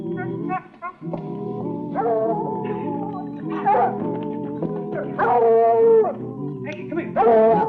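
A dog howls and yips in drawn-out, wavering cries with whimpering breaks, fairly close and loud, in an old Western TV drama.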